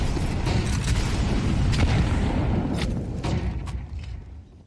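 A high-explosive grenade goes off in a Counter-Strike match, a loud rolling boom with dense low rumble that lingers, dotted by sharper cracks before fading out.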